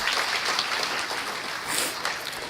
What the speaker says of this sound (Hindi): आप लोग अपने स्थान से तालियां बजाकर अभिनंदन कर सकते हैं।